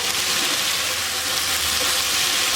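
Vegetables fry in oil over high heat for chicken vegetable fried rice, a loud, steady, dense sizzle that fills the whole moment without a break.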